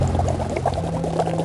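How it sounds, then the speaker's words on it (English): Groundwater bubbling up from underground, heated by volcanic activity, a loud continuous churning gurgle of water with a steady low rumble beneath, heard close and alone. "It looks like groundwater is coming up from underground."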